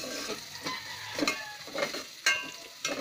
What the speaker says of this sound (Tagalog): nagigisa na siya ng sibuyas bawang